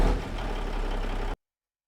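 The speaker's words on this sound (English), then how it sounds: "So this is an N14 high horsepower with a 10-inch exhaust," Cummins N14 high-horsepower truck diesel with a 10-inch exhaust, a steady loud rumbling run for about 1.3 seconds that then cuts off abruptly into silence.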